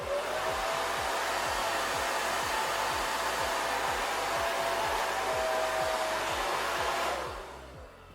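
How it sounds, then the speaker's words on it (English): A blow dryer fitted with a diffuser, drying curly hair, runs as a steady, loud whooshing drone for about seven seconds before switching off into a quieter hum. "you don't want to use a blow dryer unless it has a diffuser"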